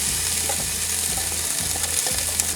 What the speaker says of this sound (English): in a pan like this on your cooktop, we're going to add in 2 teaspoons of olive oil, and then into that we're going to put in 1 chopped onion